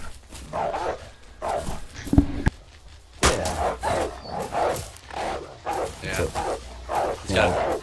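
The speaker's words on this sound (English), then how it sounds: "It sounds like puppies, see?" High yips and puppy-like barks from wolves in a video game, coming in short repeated bursts under ongoing talk and laughter from players.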